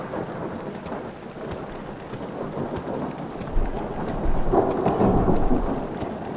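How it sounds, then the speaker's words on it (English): Rain and rolling thunder in the video game Amnesia: Illusions of the Dead, a steady downpour hiss with a deep rumble swelling louder partway through and holding to the end, heard alone. "I just don't know why it's raining."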